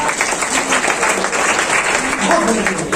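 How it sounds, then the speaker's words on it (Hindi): An audience at a mushaira claps in a dense, sustained burst of applause, loud and continuous throughout, with crowd noise mixed in. "मैं चाहता हूँ फिर एक मरतबा ताली बजाए"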